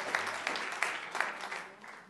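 Short burst of audience applause at an evening event, moderately quiet, with a few distinct claps standing out before the clapping fades away.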